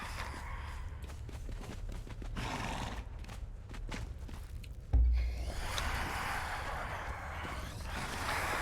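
Horse in the video game Conan Exiles, with clip-clopping hooves and breathy snorts, then a sudden loud neigh midway followed by continued movement sounds, no talking.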